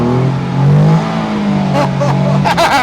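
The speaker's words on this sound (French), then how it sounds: "Bon, ça accélère pas, ça reste sur place, mais ça patine" A Morgan Super 3 three-wheeler spins its tyre while its engine revs hard: a loud, steady engine drone rises and dips close by, with voices talking over it toward the end.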